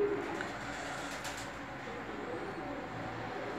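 Soft, low cooing of Gök Şeş pigeons drifts over a steady hiss of background noise, faint and somewhat distant.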